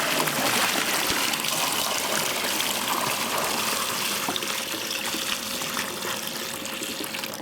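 Water gushes steadily into an above ground pool, a continuous broad rushing pour at close range that holds level throughout, with no voices.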